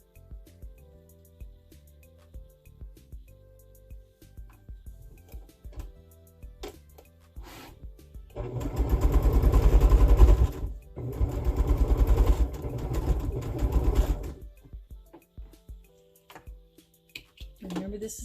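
A sewing machine stitching quilt pieces runs in two loud bursts of rapid mechanical chatter, separated by a brief pause, with quiet handling sounds and soft rustling before and after.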